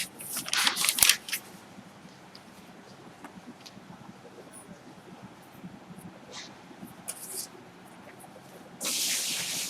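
A spraying pump lets out short hissing bursts, a couple of sharp sprays near the start and a longer steady hiss at the end, with quiet faint rustling in between.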